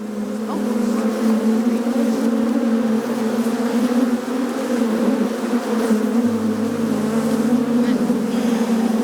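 Honeybees buzz in a dense, steady drone throughout a beehive inspection in Alaska, a close, continuous hum with no talk over it.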